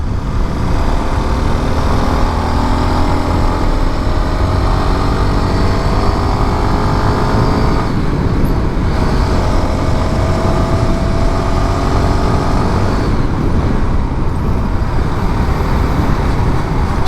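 A motorcycle cruising at night along a beach road, steady engine drone and wind rush throughout with gently shifting engine pitch, loud and close with no talking.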